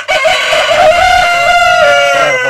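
A rooster of the Tiger chicken breed crowing on a poultry farm, one loud, close, drawn-out crow that fills the whole moment, with no talking.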